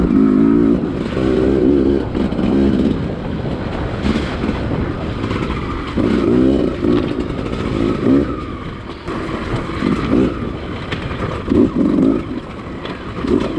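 A 2020 Beta 200RR small-bore two-stroke dirt bike is ridden along a flowing trail, its engine droning loud and close, rising and falling in revs through repeated throttle bursts with steady wind and mechanical roar throughout.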